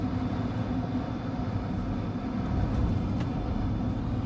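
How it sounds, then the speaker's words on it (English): Wind rushes over the squared-off A-pillar of a GMC Hummer EV at speed, a steady broadband roar with deep low-end rumble filling the cabin for several seconds, no talking. "That's the wind rushing across the A-pillar."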